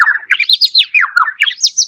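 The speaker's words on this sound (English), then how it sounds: "The first noise is a bird," A bird chirps and warbles in quick, bright, rising and falling notes, loud and close, with no other sounds around it.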